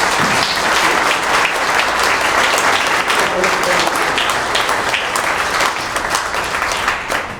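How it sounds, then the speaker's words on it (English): Sustained, loud applause from a conference audience for the panelists at an open source summit community panel, steady and dense for about seven seconds before easing slightly at the end. "could I please get a round of applause for our panelists?"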